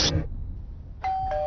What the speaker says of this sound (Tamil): யாரோ காலிங் பெல் அடிக்கிறாங்க